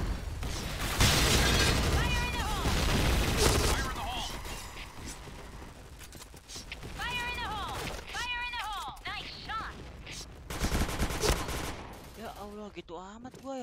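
Gunfire and a grenade blast in the online shooter Point Blank: loud, dense bursts of shots and a broadband explosion crack through the clip, with voices talking over the game sounds.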